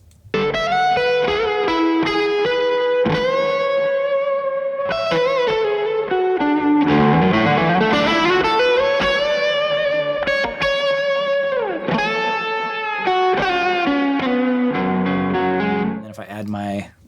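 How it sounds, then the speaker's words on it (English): Distorted electric guitar lead runs through a Jet City 333 amp simulation into an Orange cabinet, pushed by a Tube Screamer overdrive, playing sustained bends and melodic phrases loud and continuous for about sixteen seconds. "An amp sim, which I think is this Jet City 333, going through an orange cab, a little bit of tube screamer into it."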